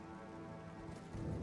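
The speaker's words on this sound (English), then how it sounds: "We're still raining? What is with rain today?" Steady rain in a video game, a soft continuous patter that swells slightly louder toward the end, with no voices over it.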